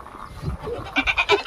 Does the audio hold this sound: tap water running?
no